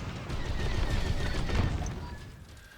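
Rapid, dense volleys of blaster fire and muffled explosions from a TIE Defender attacking targets in a Star Wars space-combat game run for about two seconds, then taper off.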